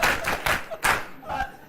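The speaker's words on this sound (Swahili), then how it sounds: "Makofi mpigie." Audience clapping after a Swahili school poem recited by a child, several bursts of applause over about two seconds, fairly loud and close.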